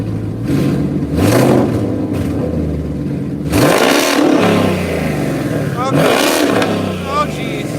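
A twin-turbo 2019 Ford Mustang GT engine idles and then revs in several sharp bursts, rising and falling loudly up close, with people talking over it.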